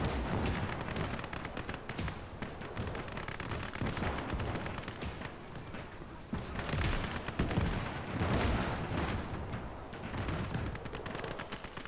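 Gunfire in the Gates of Hell real-time strategy game during a Soviet skirmish in Operation Bagration, dense rattling rifle and machine-gun bursts with distant booms, continuous and fairly loud.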